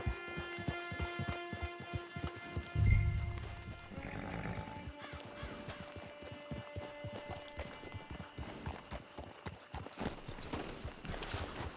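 Horse hooves clip-clopping in Red Dead Online, a steady rhythmic trot under a bed of game music and ambient hum, with a brief snort or whinny near the start.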